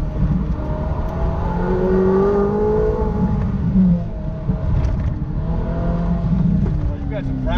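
A car accelerating on a small driving-experience track in Bridgewater, New Jersey, its engine droning steadily with rising revving pitches, heard close and loud throughout.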